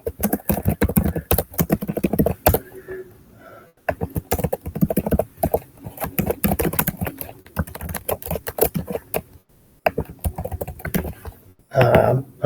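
Rapid clicking of computer keyboard typing during a mock coding interview, fairly close and steady with a few brief pauses, ending in a short louder burst.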